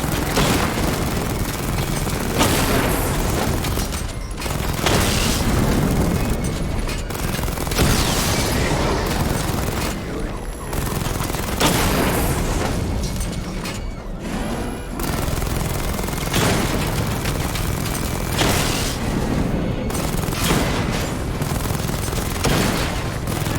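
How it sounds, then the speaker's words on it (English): The Batmobile fires a missile barrage in Batman: Arkham Knight. Dense, continuous bursts of loud explosive blasts and rapid fire overlap through the whole stretch, close and without letup, with no talk. "Charge the missile barrage to level 2 to destroy up to 4 targets at once."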